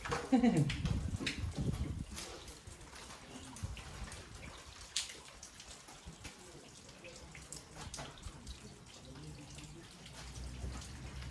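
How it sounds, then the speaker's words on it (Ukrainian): Rain falls steadily on a shelter roof over a farm yard, heard from beneath the awning as a dense patter with scattered drips, louder for the first couple of seconds and then softer and even. "Сьогодні дощ ріпіже з самого ранку"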